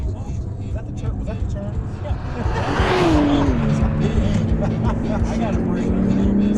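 A twin-turbo car accelerates hard, its engine note climbing in a rising whine over road roar and a brief tire squeal, heard from inside the car with people talking over the sound.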